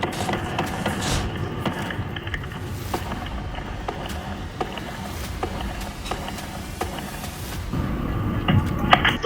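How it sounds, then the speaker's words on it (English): Gunshots during a police confrontation, a series of sharp, loud cracks spaced irregularly over steady background noise, with one louder burst near the end. "Shots fired! Dispatch! Shots fired!"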